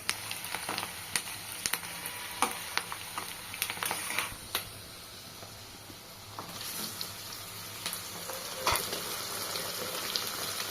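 Frying in sunflower oil for a chicken curry, a steady low sizzle with scattered spatters, clicks and utensil taps over a constant background hum, heard close and without talk.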